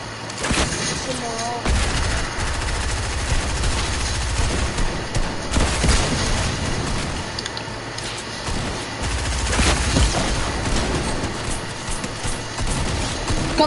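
Sustained rapid gunfire from a shooting video game, with bursts of automatic fire and booms rolling almost continuously at close range, while a voice talks over the shooting.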